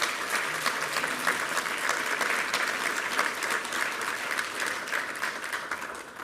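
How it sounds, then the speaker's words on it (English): An audience at an awards ceremony applauds continuously, a dense, steady wash of clapping from many hands that stays loud for several seconds. "Please give her a round of applause."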